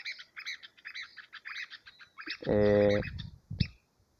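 A bird chick, raised in a masked water tyrant's nest, gives a rapid series of high, thin chirps, then a brief harsher buzzing call and one more sharp note, close and clear.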